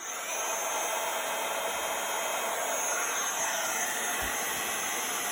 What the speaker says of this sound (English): So to heat this up, we're just going to use our heat gun.